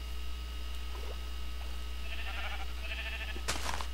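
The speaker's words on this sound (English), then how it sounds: "And there's some sheep, of course." Sheep bleating in the Minecraft video game, a few short bleats amid a steady low background drone, followed by a brief louder burst near the end, with no talking.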